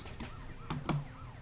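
Ambulance siren in the video game GTA Vice City, a wailing tone heard alongside a few sharp impact hits in a short burst of game sound.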